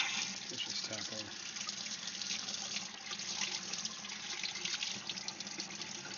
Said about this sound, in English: Cold tap water.